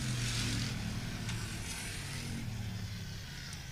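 Race cars at Star Speedway during a Slingshots feature race, their engines droning steadily down the back straight, moderately distant and fairly quiet, with a continuous low rumble and no voices.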